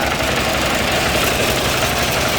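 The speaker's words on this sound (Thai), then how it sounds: "เครื่องยนต์เป็นเครื่องสูบเดียวนะครับ" A single-cylinder engine runs under test with a dense, steady, loud chugging drone that holds constant with no talk.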